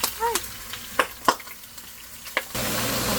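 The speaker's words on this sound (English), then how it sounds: "I'm frying the chicken now." Chicken pieces fry in hot oil, a steady soft sizzle broken by several sharp pops and crackles, followed by a louder, fuller hiss in the final second.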